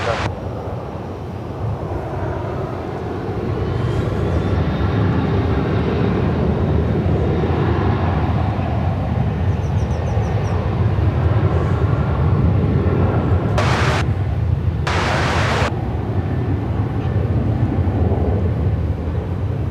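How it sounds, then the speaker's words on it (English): An American Airlines plane departs DFW Airport with a steady, fairly loud engine roar that swells early on and holds, mixed with wind buffeting and a couple of short noise bursts. "Departure now, American 1190."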